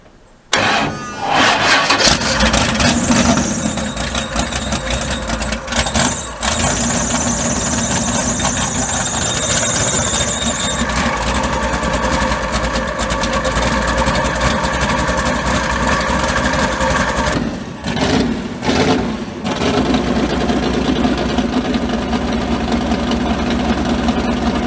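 A bog truck's engine cranks and catches, then idles loud and close with a rough, knocking rumble, with a few brief dips and surges in revs along the way.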